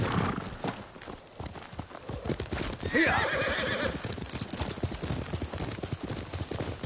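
Hooves clip-clop in a steady walking rhythm while a horse gives a clear whinny in the middle, from the Ghost of Tsushima game set on Iki Island, with the footfalls continuing under quiet ambient background.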